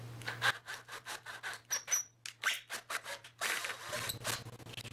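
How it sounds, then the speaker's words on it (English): A 3/8 size drill bit cuts through material in rapid, scratchy, grinding bursts that start and stop unevenly, ending in a longer continuous rasp, heard up close with no talking. "And now we're gonna use our 3/8 size drill bit."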